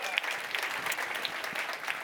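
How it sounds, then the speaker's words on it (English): Audience applause at a startup pitch event, a steady wash of clapping from a crowd holding at an even level throughout, with some faint voices mixed in. "Round of applause for AMP Minter Ellison."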